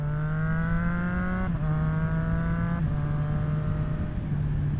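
A 2024 Triumph Street Triple motorcycle with a Yoshimura slip-on exhaust idles with a loud, steady engine drone that drops slightly in pitch at each of several downshifts, heard close and with no talk.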